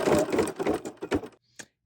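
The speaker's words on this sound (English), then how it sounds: "So now I'm going to line that up and stitch" A Kimberbell embroidery machine stitches a placement line through fabric while hooping a sampler, giving a loud, rapid burst of needle strikes that stops abruptly, followed by near silence and one short mechanical click.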